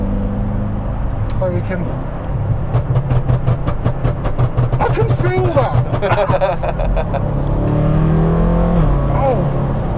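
A BMW M6 Gran Coupe exhaust burbles and crackles in a series of rapid pops on an exotic burble map setting, heard loud from inside the well-insulated cabin under steady engine drone while people talk over it.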